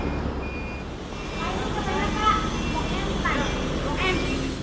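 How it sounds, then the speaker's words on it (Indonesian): A Transjakarta SA2 city bus pulls in at a busy stop, a steady low engine rumble and road noise filling the scene, with faint beeping and chatter mixed throughout. "itu bisnya sudah datang nih teman-teman, Transjakarta SA2 yang akan membawa saya menuju Blok M"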